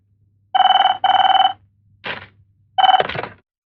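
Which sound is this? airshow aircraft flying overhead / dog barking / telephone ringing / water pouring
telephone ringing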